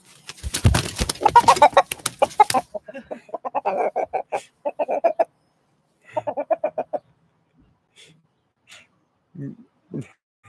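A rooster clucks in short, loud bursts up close, followed by softer intermittent clucks and calls with quiet gaps between them.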